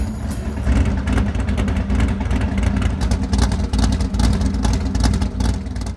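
A loud 1955 Chevy Gasser engine roars close by, a steady throbbing rumble with pulsing throttle surges, heard alone without talk.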